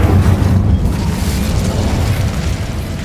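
Bombarda blasting spell in Hogwarts Legacy, a loud, dense explosive boom that fills the whole moment with a thick rumbling roar, sustained and close, with no talking over it.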